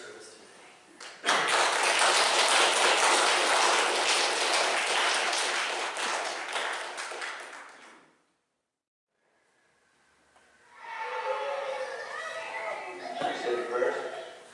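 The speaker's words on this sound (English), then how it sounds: "maybe we should just give him a round of applause as he comes and leads us in our service today" A church congregation applauds during a Sunday morning service, a loud, dense burst of clapping lasting several seconds before fading to silence, then voices and murmuring rise afterward.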